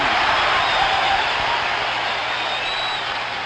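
A baseball stadium crowd at the 1975 World Series, Game 6 at Fenway Park, a dense, steady roar of cheering and applause that stays loud from start to finish.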